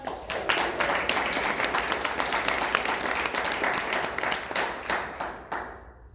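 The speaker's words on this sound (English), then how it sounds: "Well, let's give Steve a round of applause." A conference audience claps in a sustained round of applause, dense and even, that tapers off near the end.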